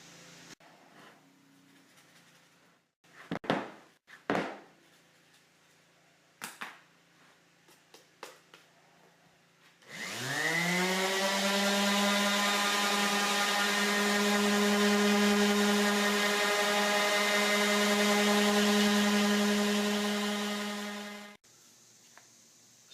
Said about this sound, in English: after some rough sanding with 80 grit, it looks pretty good